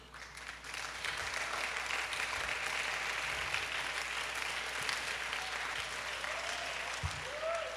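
A crowd at a church youth music camp applauds in sustained, even clapping that fills the room, with a few faint voices mixed beneath it.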